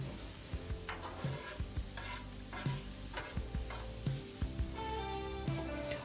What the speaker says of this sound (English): I just add a little bit of oil as well so that it gets a nice char on it on the Blackstone grill there